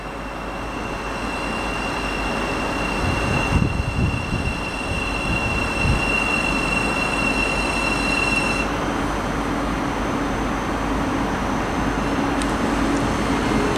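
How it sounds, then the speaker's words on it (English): Great Northern Class 717 electric train arriving at Stevenage station as a terminating service, a steady loud rumble of wheels on track with faint high squealing throughout. "arriving in now is going to be a terminating Great Northern service from Moorgate"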